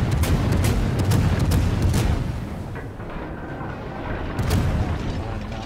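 Warship guns fire in the naval video game World of Warships, heavy booming blasts and rumbling shell impacts at close range, with muffled game voices under the din.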